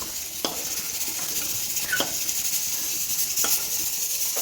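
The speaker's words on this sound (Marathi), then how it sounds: "आणि याच तेलामध्ये लसूण अद्रकचे काप टाकणार आहे" Garlic and ginger slices frying in hot oil, a steady sizzling hiss throughout with a few brief stirring scrapes, close and moderately loud with no voices.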